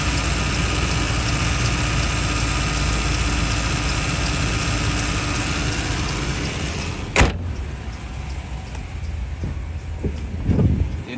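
A 2004 Dodge Durango with a 4.7 liter V8 idles steadily up close, a loud continuous engine hum with a brief click partway through.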